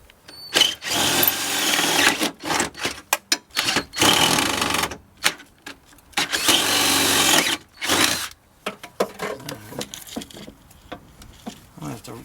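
A power tool tightens a tow hitch bolt under a 1999 Dodge Neon coupe in repeated short, loud bursts of whirring and rattling, separated by brief pauses.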